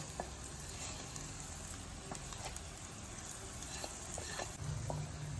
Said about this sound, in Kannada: ಬದನೆಕಾಯಿ ಎಲ್ಲ ಸ್ವಲ್ಪ ಚೆನ್ನಾಗಿ ಎಣ್ಣೆನಲ್ಲಿ ಫ್ರೈ ಆಗಿದೆ